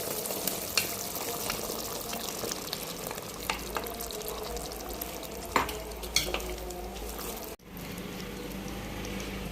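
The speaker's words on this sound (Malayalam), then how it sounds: "ഇതിലേക്ക് നമ്മൾ വറുത്ത് വെച്ചിരിക്കുന്ന ബീഫ് ഇട്ട് കൊടുക്കാം" Fried beef pieces are tipped into boiling vinegar in a pan for homemade Kerala-style beef pickle, producing a continuous bubbling sizzle with scattered spoon clicks and a brief knock near the end.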